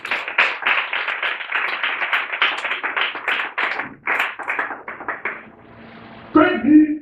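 A church seminar congregation claps rapidly together, a dense burst of hand claps that fades out near the end, followed by a brief musical tone.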